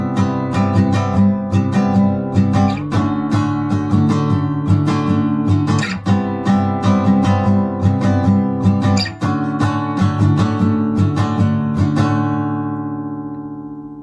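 Acoustic guitar strums the chord progression of a song in a steady rhythm, close and clear, with no voice, ending on a ringing chord that fades out.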